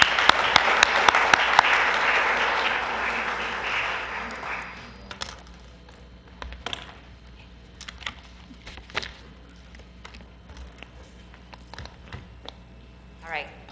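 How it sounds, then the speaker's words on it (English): An audience at a League of Women Voters community forum applauds the participants, the clapping dense for a few seconds then thinning into scattered claps and soft room noise. "hope the audience would join me in thanking them with an applause"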